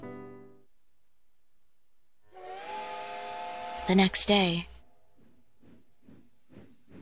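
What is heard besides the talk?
steam train whistle leaving station, video game Code: Realize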